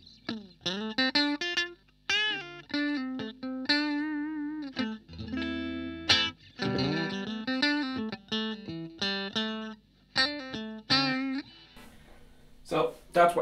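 A Blackstar HT1 guitar amp played dry with no reverb, short picked phrases and quick note runs with abrupt stops and gaps, close and clear.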